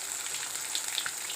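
Fish frying in a pan, a steady close bright sizzle with a few soft pops, heard alone.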